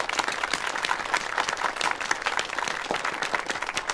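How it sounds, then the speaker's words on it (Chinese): A meeting hall audience applauds to welcome an official from the provincial state assets commission, steady close clapping filling the whole stretch without a break. "首先，我们以热烈的掌声欢迎省国资委的陈丽娟主任"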